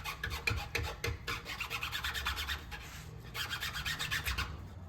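A 3/16 inch file cuts string nocks into the limb tips of a wooden self bow, making a rapid, steady rasping with repeated back-and-forth strokes that sound close and moderately loud, with no talking.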